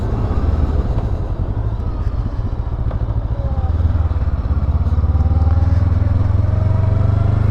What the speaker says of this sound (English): Surprisingly spunky little motor.